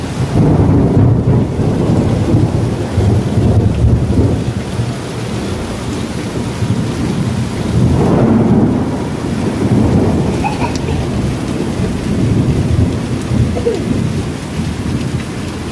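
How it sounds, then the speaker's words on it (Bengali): Heavy rain pours steadily around a home at midday while loud thunder rolls through repeatedly, with deep rumbling swells near the start and again around the middle, no voices. "আমাদের এখানে খুব বৃষ্টি হচ্ছে আর খুব মেঘ ডাকছে।"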